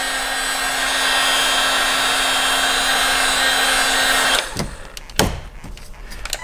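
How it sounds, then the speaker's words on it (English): A heat gun blows steadily on a vinyl badge skin on a VW Mk2 Tiguan, giving an even, close fan roar with a high whine. It cuts off abruptly and is followed by a few soft handling knocks. "you're gonna take the heat gun"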